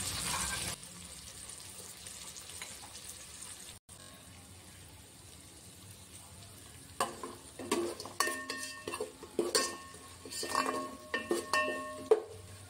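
Crushed ginger, garlic and pepper paste frying in a pan, a steady sizzle that turns busier in the second half with scraping and clinking stirring strokes; no voices.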